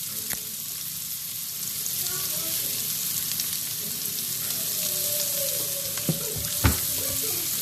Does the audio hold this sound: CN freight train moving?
no